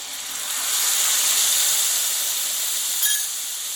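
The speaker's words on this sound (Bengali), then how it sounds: "একটু ভালোভাবে একটু কষিয়ে নেব মশলাটাকে" Steady hissing sizzle of a spice mixture frying in a pan for a vegetarian potol (pointed gourd) dish, constant and close with no talking.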